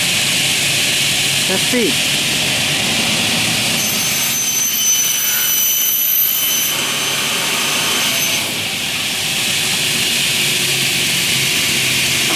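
A Windotek CNC cutting saw motor runs with a steady, loud, broadband whir and a faint high whine throughout, under a brief spoken remark.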